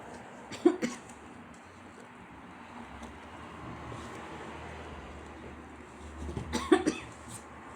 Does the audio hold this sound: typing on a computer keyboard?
no